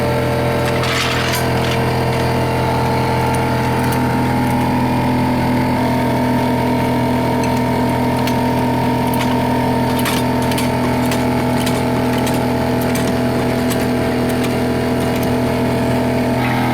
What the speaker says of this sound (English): That's an air pump right there